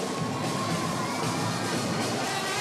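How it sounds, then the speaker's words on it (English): Dense crowd noise at a nighttime Mobile Mardi Gras parade, a steady wash of cheering and shouting voices, children among them, holding at an even level throughout without letup. "We got a nice crowd here now."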